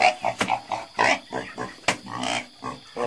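Male pig of a Vietnamese local breed raised on a farm without commercial feed, grunting in a quick series of short, close, loud snorts and oinks, one after another.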